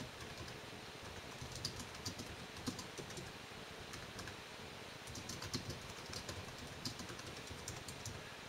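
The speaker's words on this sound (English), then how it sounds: "this is actually typing into a document using a 12-point font" Continuous rapid typing on a MacBook Pro laptop keyboard, quiet and steady, with light irregular clicks over a soft background hiss. No voices.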